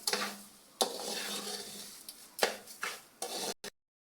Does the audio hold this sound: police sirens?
no